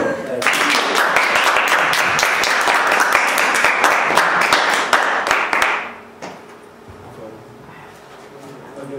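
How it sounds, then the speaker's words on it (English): An audience at a talk on fracking for shale gas gives the speaker a round of applause: loud, dense clapping from many hands for about five seconds, then a quick fade into quiet room tone. "I think I'll give him a round of applause"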